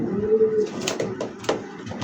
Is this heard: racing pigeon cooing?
yes